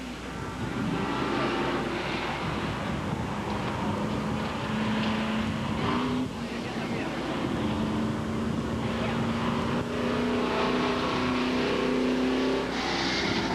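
Race car engine at Seekonk Speedway in 1992, droning steadily throughout as the machine runs laps, a continuous loud motor hum with slight pitch shifts and no pause.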